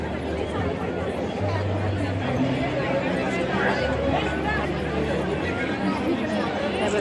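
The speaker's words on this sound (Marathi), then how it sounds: "हे बघा, तशी इथे खूप गर्दी आहे गाईस." Large crowd chattering at the Bhimthadi fair, a dense, continuous babble of many voices close around, with no single voice standing out.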